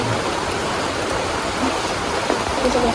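Steady rain fills the scene with continuous broadband hiss, close and even, with no pauses or voices.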